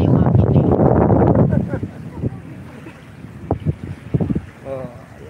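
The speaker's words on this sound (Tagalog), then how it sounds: "Malakas kasi hangin eh, maririnig yung hangin." Strong wind gusts into an outdoor microphone with a heavy, rumbling roar, loud for the first second and a half before easing to a lower rush, while a person talks intermittently.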